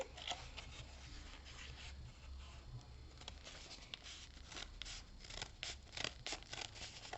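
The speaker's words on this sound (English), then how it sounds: "you're going to go all the way down to the middle where your slits are going to be" Scissors snip through paper in a steady run of crisp, close cuts, making slits for a paper beanstalk craft, with no talking over them.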